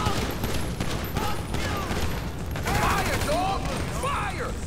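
Rapid gunfire from GTA 5 gameplay rattles steadily across the whole stretch, dense volleys under a busy game mix with whistling ricochet-like sweeps, fairly loud and continuous with no pauses.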